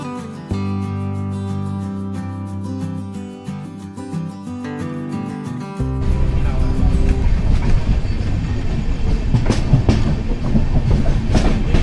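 Diva–Ratnagiri passenger train running on rails between Panvel and Sangameshwar, a steady loud rumble with rhythmic clickety-clack of wheels, preceded by a musical intro.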